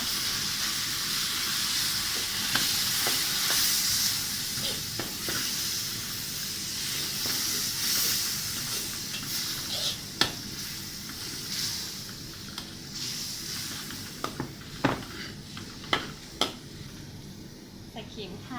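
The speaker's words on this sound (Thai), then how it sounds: "จะใส่น้ำลงนิดหน่อยนะคะ" Water hits the hot mapo tofu sauce in a pan, which sizzles and hisses steadily while a spoon stirs with scattered clicks against the pan. A voice comes through faintly at times.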